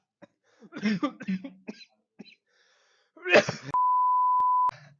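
A person coughs hard after inhaling something: a short, harsh broadband burst midway, preceded by scattered vocal sounds and followed by a steady electronic beep tone.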